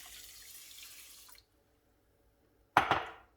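Water from a tap pours into a pot holding 3 cups of rice, a steady stream that stops, then a short, louder splash after a silent pause.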